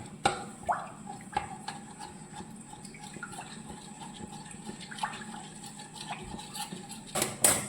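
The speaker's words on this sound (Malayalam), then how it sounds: "കട്ട പിടിക്കാതെ ഇങ്ങനെ ഇളക്കിക്കൊണ്ടിരിക്കണം" Quiet scraping of a spoon stirring white sauce made with milk in a pan, with soft repeated clinks against the metal and a brief louder clatter near the end.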